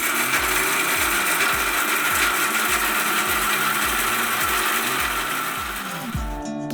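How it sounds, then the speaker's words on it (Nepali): An electric mixer grinder whirs loudly and steadily while grinding roasted garam masala spices such as cumin and coriander, with rhythmic rattling of the whole spices inside and a slowdown at the end as it is switched off. "मिक्सरमा राखेर यसरी मिक्स गर्ने।"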